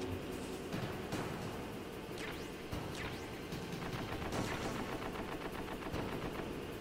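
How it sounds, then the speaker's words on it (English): Tank machine gun in the Metal Gear video game rattling off continuous rapid bursts, loud and dense throughout, with sharp crashing impacts layered over the steady fire. "the gunner comes up and uses the machine gun"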